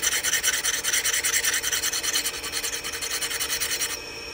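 Steady rhythmic rasping of a file or hone across the edge of a negative rake scraper, fairly loud and close, with repeated strokes continuing alone until a lighter pass near the end.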